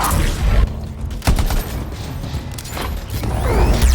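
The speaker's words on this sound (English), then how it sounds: "Nothing like a grenade to the dome to really teach your enemy a lesson." Sticky grenade blast in the video game Anthem, a loud booming thud amid rumbling gunfire and mechanical game effects, dense and close.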